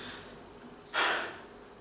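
A single forced exhalation, one sharp, breathy rush of air lasting about a third of a second, heard close and alone against quiet room tone.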